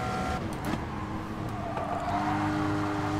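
A Porsche race car engine at full throttle in Gran Turismo Sport, a steady loud drone with a rising tone from the interior view, no talk.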